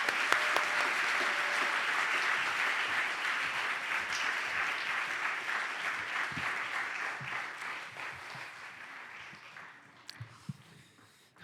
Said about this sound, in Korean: 그래서 박수로 여러분 환영하시기를 바랍니다